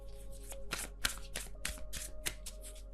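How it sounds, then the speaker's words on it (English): Tarot cards are shuffled by hand at close range, a rapid run of crisp riffling flutters and taps repeating through the moment with no talk. "You're telling me to shuffle, so hang on."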